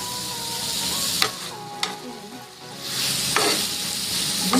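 Green chillies and chopped ginger sizzle in oil while being stirred in a pan, a steady fry hiss with a few sharp scraping knocks of the spoon, close and without talk.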